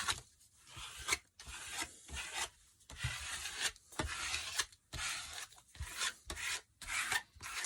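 Hands smoothing a glued paper napkin flat on a surface: soft, close rubbing and rasping strokes in irregular repeated bursts with brief pauses between, quiet and alone without talk.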